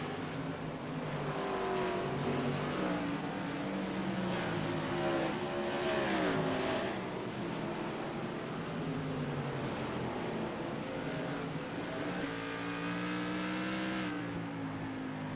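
Modified race cars roar around Concord Speedway in a TRS Tour Modified Series race, engines droning loud and continuous with pitch sweeps as cars pass and accelerate, a dense pack of motors filling the whole stretch.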